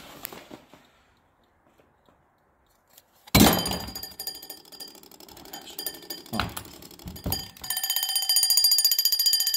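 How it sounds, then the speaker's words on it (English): A quiet stretch of faint clicks, then a loud mechanical alarm clock bell starts ringing abruptly, rattling on continuously with a couple of thumps along the way. "Time to wake up. It's the alarm."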